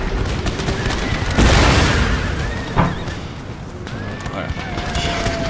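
Cannon artillery booms in an Empire: Total War battle, with a few heavy blasts rising over constant battle noise while someone speaks.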